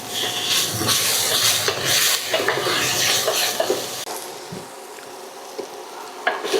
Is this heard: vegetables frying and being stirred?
yes